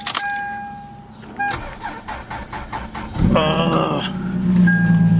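A Lexus IS300 engine cranks slowly with a repeated labored rhythm before catching and running, loud and close, with a chime sounding at the start.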